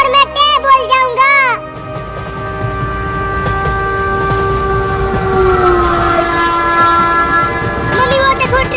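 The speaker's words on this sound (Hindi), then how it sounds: "मम्मी वो देखो ट्रेन आ गई" Train arriving on a railway line, loud and close, with a rumbling rush of wheels and a long sustained horn tone after a brief burst of a voice at the start.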